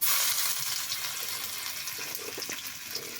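Ginger frying in a pan, a continuous hissing sizzle, loud at the start and easing slightly, with a few faint clinks from stirring.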